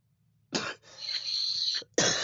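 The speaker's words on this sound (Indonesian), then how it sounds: "Batukku masuk ya." A person coughs twice in a Salatiga-area outdoor setting, two sharp close bursts separated by a sustained breathy rasp, with a quiet low hum beneath.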